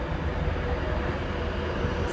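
A Class 390 train departs Wigan North Western station, a loud, dense rumble of wheels and motors rolling steadily close by.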